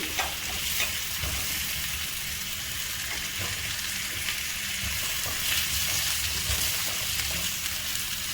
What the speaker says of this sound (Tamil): மாங்காய் போட்டு நல்லா வதக்குங்க.